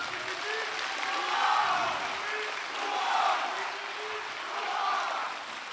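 Audience applause at a Walibi theme park event, a steady, fairly distant wash of clapping from a crowd that swells and eases in waves, with faint voices mixed in.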